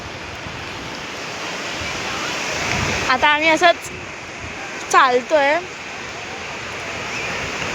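Sea waves at a harbour shore at sunset make a steady, full wash of surf throughout, while someone speaks briefly over it twice.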